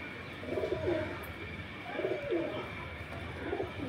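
Domestic pigeons at a pigeon sale in Beldanga give soft, low cooing in three repeated bursts, close by over a steady background hum, with no talking.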